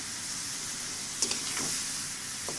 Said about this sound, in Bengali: আলু আর পটলটাও দিয়ে দিলাম